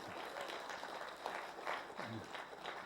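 Audience applause for a speaker at a motivational event, faint and scattered clapping that sounds fairly distant, with some voices mixed in.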